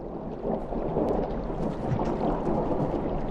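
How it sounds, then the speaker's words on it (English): Dense, steady low rumble of stormy rain and distant thunder in the Monument area of the game Rain World, a constant wash with no clear peals and no talk. "It is very stormy, it's very rainy."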